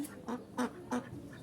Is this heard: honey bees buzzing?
no